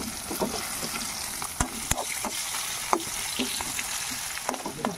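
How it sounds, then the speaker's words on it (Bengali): Onions with whole cardamom and bay leaf frying in oil for a classic mutton curry, a steady sizzle punctuated by sharp spatula knocks and scrapes against the pan as they are stirred. "পেঁয়াজগুলো লাল লাল ভাজা যাইছে"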